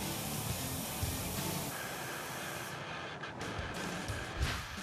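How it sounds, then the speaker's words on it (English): A primer gun with a large fluid tip sprays thick tooling gel coat onto a mold, giving a continuous loud hiss that fills the whole stretch and thins briefly near the middle before resuming. "Now it does spray like spackle, so use a primer gun with the biggest fluid tip you've got."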